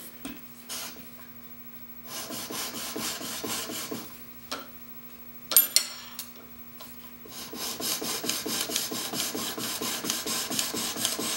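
Woodworking chisel sharpened on a coarse diamond stone: steady rhythmic rasping strokes of steel on the plate, close and fairly loud, with brief pauses between runs and no talking.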